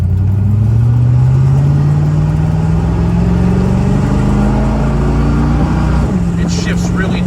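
A 1970 Ford Mustang with a 302 V8 cruising along, its engine droning loud and close with a steady climbing tone as it accelerates, then a brief dip at a gear shift before settling again.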